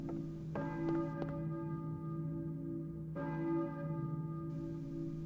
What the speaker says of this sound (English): church bell maybe? Who is ringing the bell?